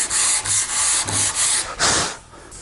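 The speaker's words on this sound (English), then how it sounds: "It sands a little differently than the wood." Wood filler on a wooden surface is sanded by hand in rapid back-and-forth strokes, a close, dry rasping rub repeating about every quarter second.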